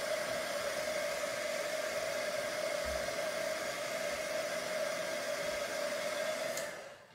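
Heat tool blowing steadily to dry red pigment ink on a Stampin' Up! stamped card, a continuous close, fairly loud whooshing hum that cuts off near the end.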